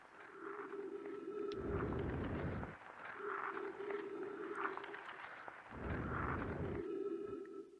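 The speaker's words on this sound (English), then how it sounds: "that's the sound of me actually sliding along the ice" A low, rough scraping rumble swells and fades in long waves beneath a steady electronic drone as a character slides across ice in the video game Outer Wilds.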